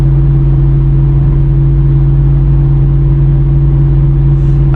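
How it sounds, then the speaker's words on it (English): Pontiac G8 GT exhaust cruising at around 75 mph on the road, a loud, steady, continuous low drone with a constant hum and no break or change in pitch throughout. "around 75 here is where the exhaust starts to overwhelm any wind noise or tire noise or traffic noise"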